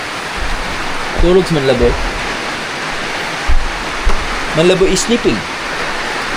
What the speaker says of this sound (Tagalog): Bumuhos na naman yung napakalakas na ulan.